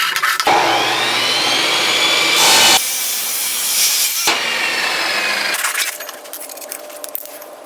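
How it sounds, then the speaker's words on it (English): Loud, close power saw cutting salvaged junkyard metal pieces at 45 degrees for a welding cart, a continuous harsh grinding whine that shifts in pitch between cuts and winds down toward the end. "I'm going to cut these at 45, so I need to set my saw up for"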